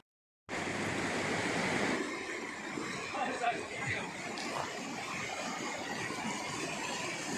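Gola River water rushing steadily in an outdoor mountain setting, a broad continuous roar that starts abruptly and holds at an even level throughout.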